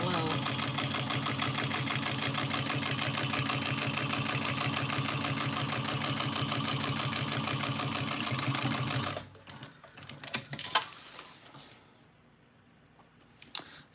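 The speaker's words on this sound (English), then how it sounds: "I'm gonna go ahead and top stitch here, that 1/8 of an inch" A sewing machine top stitches an Araki box bag about an eighth of an inch from the edge, running in a loud, steady, rapid whir for about nine seconds before it stops and a few clicks and handling sounds follow.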